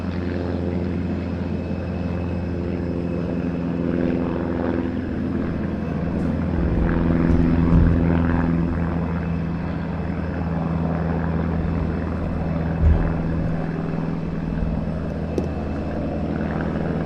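A Supermarine Spitfire propeller engine starts up and runs at an airport, a steady, droning rumble at moderate distance that swells slightly midway, with no voices.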